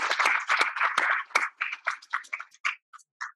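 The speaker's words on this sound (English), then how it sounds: "can we please have a round of applause again for all of our guest speakers?" Audience at a symposium panel applauding guest speakers, starting as dense clapping and thinning into scattered, separate claps before fading out.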